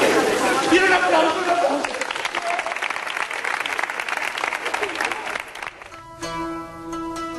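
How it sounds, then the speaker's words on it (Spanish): Studio audience bursting into loud, sustained applause for a Canal Sur report on Cervantes in Andalusia, dense clapping for about six seconds before fading into a brief musical tone. "¡Quiero un aplauso!"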